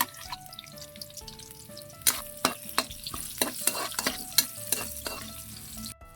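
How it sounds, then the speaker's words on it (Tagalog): Garlic and onion are sautéed in a pan. A steady frying sizzle runs under a string of sharp clacks as a utensil stirs and scrapes, close up, with no voices. "Manggigisa na tayo. Lagay tayo ng bawang. Sunod, sibuyas."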